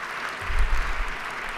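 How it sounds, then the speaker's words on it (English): Brief applause rises from members gathered in a state House chamber to honor staff such as the doorkeepers. It swells a little in the middle and stays steady, with no talk. "I want y'all to give them a round of applause"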